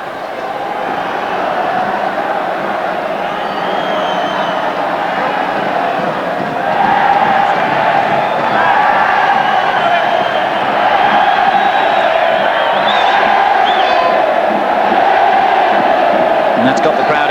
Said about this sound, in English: And that's got the crowd excited now